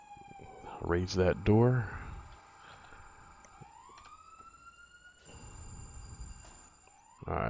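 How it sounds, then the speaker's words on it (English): A fire engine siren rises in a long wail under radio chatter in an FDNY firefighting simulation game, set against a steady electronic tone, with a short spoken line near the start. "So it looks like engine 30 might be on its way. You can hear it."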